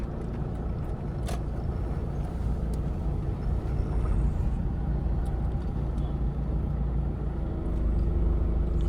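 A car drives slowly along a narrow village road in the Konkan region, its engine and road rumble steady and close throughout with no talk.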